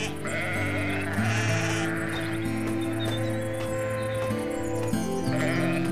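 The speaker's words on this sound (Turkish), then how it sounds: "ne kadar güzel bir kuzu değil mi?" A lamb bleats repeatedly in a high, wavering cry, close and fairly loud, with several drawn-out calls running one after another and no talk over them.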